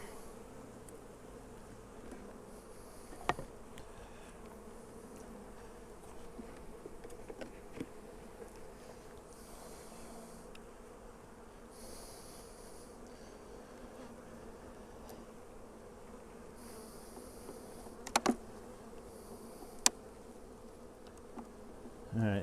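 Honey bees buzz steadily around open hive boxes during a box rotation, a dense, continuous droning hum with occasional close fly-bys and a few soft knocks of handled wooden equipment.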